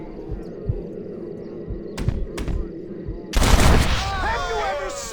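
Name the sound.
gunshots in Red Dead Redemption video game, shooting a hat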